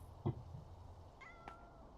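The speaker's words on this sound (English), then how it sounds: "I hear you, cat." Ulysses the cat gives a short, faint meow, a thin tonal call heard quietly near the middle after a soft thump, in an otherwise hushed room.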